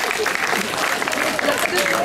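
Audience applause for a contestant named Romain at a live comedy show, steady dense clapping throughout with crowd noise and voices mixed in.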